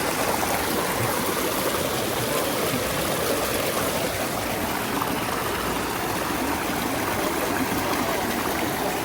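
The Grand Galet waterfall at Langevin on Réunion pours with a steady, loud roar of rushing water, a broad continuous hiss that fills the whole stretch without breaks.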